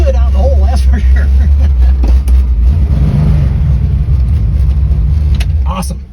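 A Ford Fairlane with a 390 V8, three deuces and 4.11 gears launches, its deep engine roaring loud and close with a heavy low rumble, while people talk and shout briefly over it.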